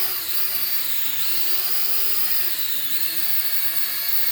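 A cheap toy drone takes off and flies, its small motors producing a close, steady high-pitched whine that wavers up and down in pitch as the speed shifts, continuous and loud throughout.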